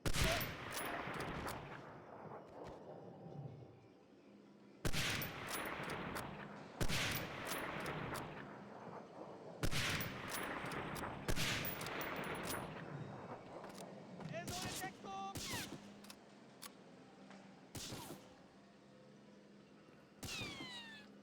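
Video game gunfire in bursts of sharp, rapid shots separated by quieter gaps, loud and close, with a person talking at points between and over the volleys.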